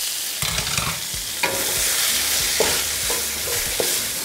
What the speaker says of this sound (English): add more oil, and cook the rest of the onion